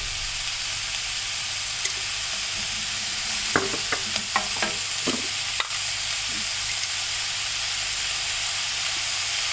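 Mushrooms and potato frying with salt in a pan, a constant hissing sizzle with a short burst of quick spatula scrapes and taps around the middle.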